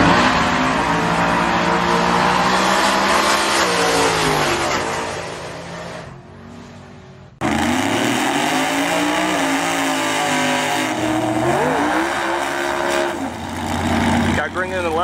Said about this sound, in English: It seems like a nasty nitrous truck. Or blower, probably blower, it's pretty loud.